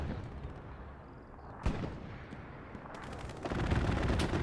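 A strafing run in the video game Hell Let Loose, with rattling gunfire, a sharp blast and dense rolling shots that swell to a loud, sustained barrage near the end.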